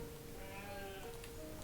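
Sheep bleat faintly in the video game Banished, a quiet wavering cry heard once or twice over a soft background.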